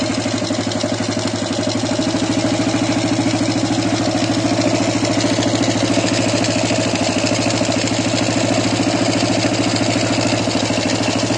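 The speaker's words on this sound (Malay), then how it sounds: "Enjin dah hidup lah." A repaired Honda EX5 Dream motorcycle's small single-cylinder engine idles close by, a steady even putter holding unchanged throughout with no voices.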